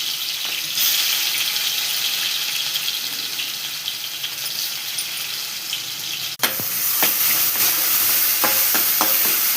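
Ground onion paste frying in hot oil for Telangana fish curry, a steady loud sizzle with a sudden splash as it goes in, followed by scraping stirs.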